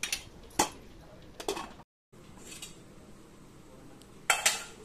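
A spoon scrapes and clinks against a cooking pot as aloo biryani is stirred, with a few sharp metallic knocks spread across the clip and a brief gap of silence in between.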